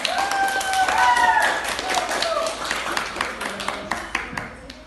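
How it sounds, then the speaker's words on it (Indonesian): A class of schoolchildren claps in a classroom, a dense patter of hands swelling then thinning over a few seconds, with voices talking through it. "Kita beri tepukan dulu nak."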